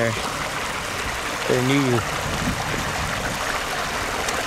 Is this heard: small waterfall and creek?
yes